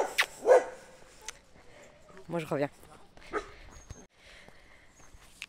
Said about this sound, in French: le chien a aboyé